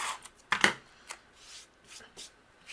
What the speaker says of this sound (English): And then I'm going to use my tape runner